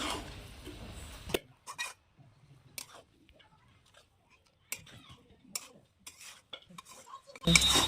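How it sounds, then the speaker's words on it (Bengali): Grated carrots being stirred in a kadai to dry off their water, with quiet intermittent scraping and clinking of a utensil against the pan and short gaps of near silence. "কড়াইয়ে গাজর নেড়ে নেড়ে গাজরের জলটা শুকিয়ে নিচ্ছি।"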